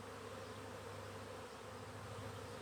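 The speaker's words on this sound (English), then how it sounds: "There's a lot of bees looking at me right now." Honeybees hum in an open hive box during a month-two inspection by a new beekeeper, a steady close buzzing drone that holds unbroken throughout with no talk.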